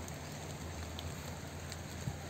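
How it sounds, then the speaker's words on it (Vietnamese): Heavy rain falling during a riverside fishing outing, a dense steady patter drumming evenly on surfaces throughout, with no voices. "mây đen quá trời, mưa rất hột các bạn"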